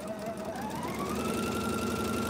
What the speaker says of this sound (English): So I'm going to start sewing on that line.